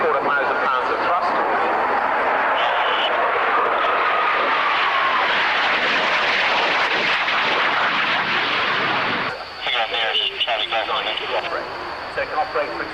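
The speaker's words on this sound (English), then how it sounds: "The power of a Rolls-Royce Pegasus 105, Victor thrust turbofan" Loud, steady jet roar from a Rolls-Royce Pegasus 105 vectored-thrust turbofan at the 1993 Coningsby airshow fills the whole stretch and shifts in tone near the end, with a public-address voice faintly mixed in.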